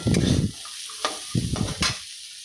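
Vegetables with a pinch of salt lightly frying in a pan for vegetable soup: a short burst of sizzle, then quieter gaps broken by a few clicks and brief stirring scrapes, close by.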